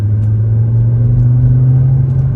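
Engine of a Volvo manual car given a little gas while a learner drives, a steady low rumble near and loud with a slight rise in pitch, no talking over it.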